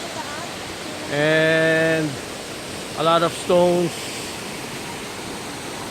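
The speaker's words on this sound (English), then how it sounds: "fantastic waterfalls" A waterfall on Jeju Island gives off a steady, even rush of falling water throughout, while people speak briefly over the constant roar.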